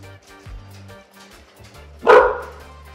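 A dog barks once, loud and close, in a home during a clean-up, with low background rumble and faint sounds before it.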